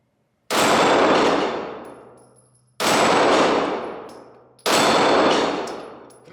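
Three loud, close pistol shots from a Glock 17 Gen 5 and a Springfield XDM Elite, fired about two seconds apart, each followed by a long ringing decay.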